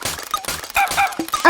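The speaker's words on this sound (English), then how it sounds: "Oh, it barks too." A cartoon puppy barks and yips in a children's animated show, a quick series of short, bright, loud yaps in an uneven rhythm, close up.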